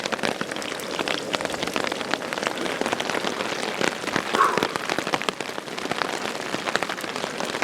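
Rain falls steadily during a backpacking trip, a dense, even patter of drops striking surfaces close by with no pauses.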